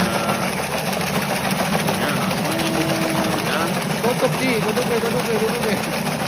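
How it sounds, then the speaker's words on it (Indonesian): Automatic spinner-type shallot peeling machine running, a steady mechanical whirr and rattle with a continuous motor hum, loud and unbroken, while someone speaks over it. "berikut adalah contoh operasional mesin pengupas bawang otomatis"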